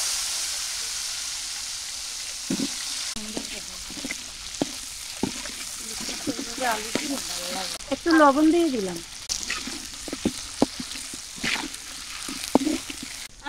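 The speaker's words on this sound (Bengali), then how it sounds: "তেলের মধ্যে আলুগুলো ভাজতে নেই" Potatoes frying in oil in a home kitchen, a steady soft sizzle running underneath with scattered clinks and stirring, while someone talks briefly over it.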